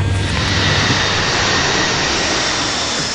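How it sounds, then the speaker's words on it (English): A plane landing at Delhi airport, a loud, close and continuous roar of aircraft engines that stays steady throughout with no voices. "The plane lands at the Delhi airport right on time."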